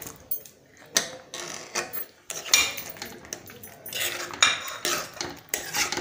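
Cream and paneer being stirred into palak in a pan, with quick, irregular metal spoon clinks and scrapes against the pan, close and alone, in bursts with short pauses.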